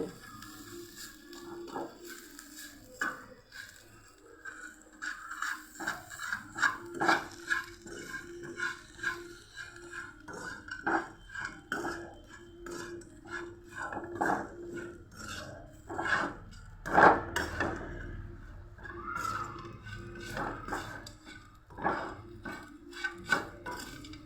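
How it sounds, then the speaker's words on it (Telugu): A spatula scrapes and stirs bitter gourd fry in a pan, a quiet, irregular series of scraping strokes that continues throughout with no talking. "ఇది చక్కగా ఇట్లా ఇట్లా కదిపేసి"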